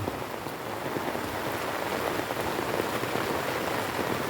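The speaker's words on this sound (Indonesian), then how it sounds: "Dan saat ini masih hujan." Steady, heavy rain falls beside the swollen Kali Srengseng river in Tambun Selatan, an even, dense hiss that runs unbroken and close, with no voices.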